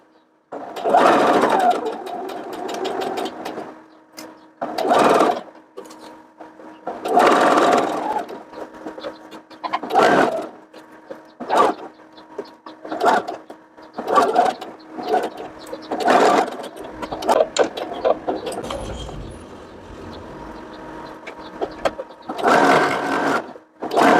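A sewing machine stitches a lined children's dress with a ruffled yoke, running around the neckline to the back in repeated loud, close bursts broken by short pauses to adjust the fabric.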